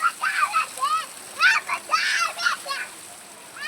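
Children splash and bathe in a rain-swollen stream during heavy rain, with bursts of splashing and excited kids' voices rising and falling close by.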